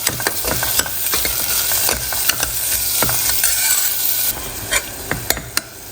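A spoon stirs sautéed onion and carrots in a hot pan for lentil soup, with repeated sharp scraping clicks against the pan over a continuous sizzle close by, and nobody talking.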